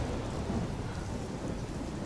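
Steady downpour with a low thunder rumble in the game Life is Strange: Before the Storm, dense and continuous with no distinct strike.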